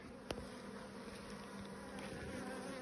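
Buckfast bees buzz in a faint, steady hum of many insects close to the hive, with a brief tap near the start.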